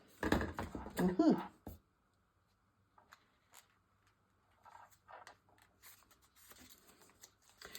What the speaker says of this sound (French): Peut-être pas ce qu'il faut comme taille de ciseaux pour faire ce genre de découpe.